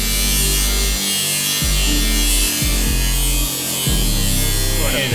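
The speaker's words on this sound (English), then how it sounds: "We stay grinding." A rotary grinder works on a car engine's intake duct near the throttle body during a 2.0T engine swap into a Jetta, a loud, steady high-pitched buzzing whine with brief dips as the tool is eased off and reapplied.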